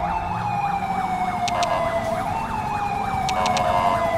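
Police car siren from the video game GTA with the LSPDFR mod, a loud, close wailing and yelping tone cycling rapidly and steadily throughout, with brief higher electronic chirps over a continuous engine drone.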